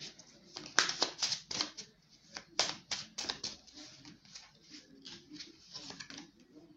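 Tarot cards are shuffled by hand close up, producing quick papery flicks and riffling snaps in uneven bursts, soft and intimate.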